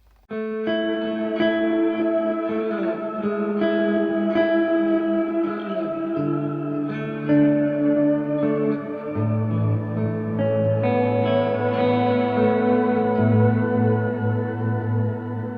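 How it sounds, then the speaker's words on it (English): Sustained guitar notes washed in swelling reversed echoes and a bright, airy shimmer of reverb, forming a big, continuous ambient pad. "Tone number 2 is reverse delay into octave up reverb."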